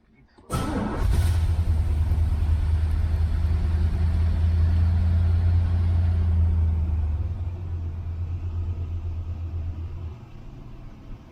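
A C3 Corvette's engine fires up in neutral with a sudden burst, then settles into a loud, deep, steady rumble close by that drops slightly in level toward the end.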